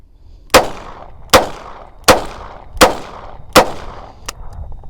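Five loud pistol shots fired at a steady pace from a close-quarters wrestling position, each a sharp crack with a short ringing decay, followed by faint metallic rattling.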